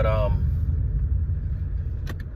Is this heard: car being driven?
yes